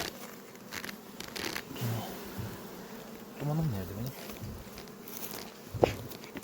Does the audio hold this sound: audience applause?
no